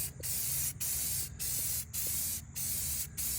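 A spray paint can puts light coats onto a wheel rim in six short bursts, each a close, bright hiss separated by brief pauses in a steady back-and-forth rhythm, with no voices.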